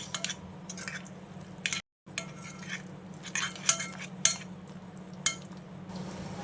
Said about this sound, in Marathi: आता हे सर्व मसाले आपण मिक्स करून घेऊया